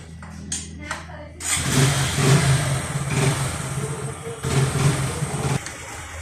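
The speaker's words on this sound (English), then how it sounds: "अलि साउन्ड कस्तो कस्तो छ है यो बाइकको?" Hero XPulse 200 motorcycle engine starting up and running after servicing and new con bearings, a steady close mid-pitched idle with a few blips of revving, preceded by brief clicking.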